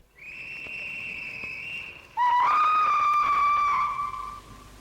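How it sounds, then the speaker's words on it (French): A steam locomotive whistle sounds as the train departs from a station platform, first a sustained higher tone for about two seconds, then a louder, lower, richer blast held for nearly two more before fading. "La locomotive a sifflé en français."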